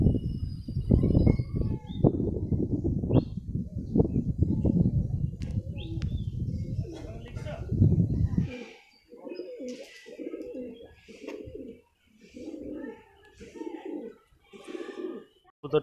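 Domestic pigeons at a house: a loud, rough rustling noise fills the first half, then a run of soft, low cooing calls repeats in short bursts, fairly close.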